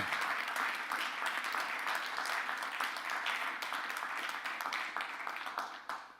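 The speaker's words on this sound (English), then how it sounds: "So a quick round of applause for them." Conference audience applauding after a talk, a sustained bed of clapping from a crowd that stays even before fading out at the close.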